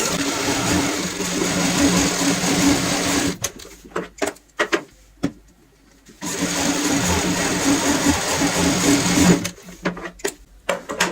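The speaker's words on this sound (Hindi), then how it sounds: "अब हम यहाँ पे भी सेम इसी तरीके से सिलाई लगाएंगे।" A sewing machine stitches a cushion cover in loud, steady runs, stopping around the middle for a few seconds of scattered clicks and handling, then starting up again and running on.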